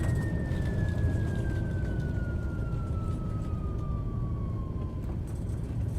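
A King Air aircraft brakes hard on landing in the MSFS flight simulator, a loud steady rumble of rolling and engine noise under a thin tone that slowly falls in pitch before cutting off.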